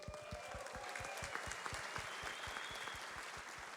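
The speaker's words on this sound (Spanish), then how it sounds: "También otro aplauso para las parejas de para siempre." Steady applause from an audience at a couples' night celebration in a church or event hall, dense continuous clapping with no voices on top, holding at an even level throughout.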